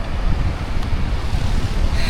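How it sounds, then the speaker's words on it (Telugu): Steady roar of breaking surf and gusting wind at Suryalanka beach near Bapatla, continuous and close, with wind buffeting the microphone and no voices. "ఇదే గైస్ బీచ్."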